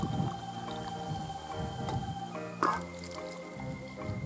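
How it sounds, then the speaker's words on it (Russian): Hot water poured into sifted flour for chebureki dough, a soft wet trickle and squishy drip near and fairly quiet over a background of faint music, with no talk. "1 стакан горячей воды."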